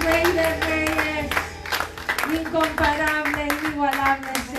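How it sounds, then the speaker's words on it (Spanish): A congregation at a church prayer service claps rhythmically while worship music and singing carry on over the sharp, repeated hand claps. "Dale un aplauso fuerte a Jesús"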